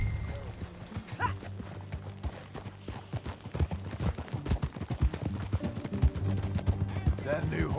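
Horse hooves clip-clop steadily at a riding pace in Red Dead Redemption 2, with a brief whinny and background game ambience throughout, moderately loud and close.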